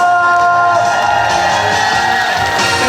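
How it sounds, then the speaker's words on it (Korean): Crowd cheering, whooping and applauding at an autumn outdoor music concert at the Tower360 cafe in Daebudo. The noise is loud, dense and continuous, with sustained musical tones running underneath throughout. "박수와 함성"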